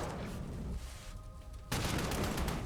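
Artillery fire in the strategy game Panzer Corps 2 lands as a dense, rumbling volley of booms, easing off briefly before a sharp, loud burst of blasts resumes.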